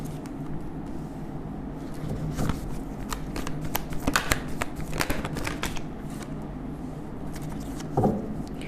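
A deck of cards is shuffled in a run of quick, crisp riffling bursts, louder in the middle, with a softer shuffle near the end.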